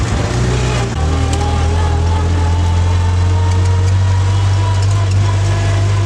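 An old Renault Torpedo car engine runs steadily while driving through a town centre, a loud continuous low idling-like drone throughout with a brief dip near the start, and faint voices underneath.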